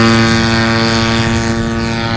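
A radio-control model airplane flying at an event centre gathering of RC pilots, its propeller and small engine giving a loud, steady high-pitched buzzing drone that holds constant throughout, close by, with no talk.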